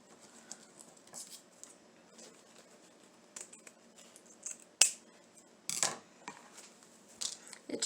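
Scissors cutting craft material for a Dollar Tree Valentine garland, scattered soft snips and handling rustles, with a few sharper louder cuts near the end, close and quiet with no talk.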